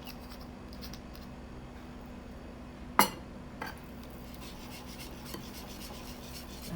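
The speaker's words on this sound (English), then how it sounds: "To smoothen the molds with the batter, make sure you stir properly" Pancake batter stirred in a bowl, a steady soft scraping rasp throughout, with one sharp clink of the utensil against the bowl and a few lighter taps.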